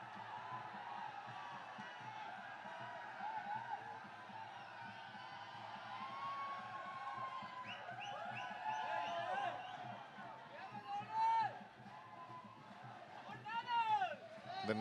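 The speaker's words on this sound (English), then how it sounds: "The Navy crowd also now getting in action, cheering them." Navy SC supporters at a Dialog Rugby League 2016/17 match against CR&FC, a distant, steady crowd murmur with scattered whoops and cheers rising toward the end beneath continuous commentary.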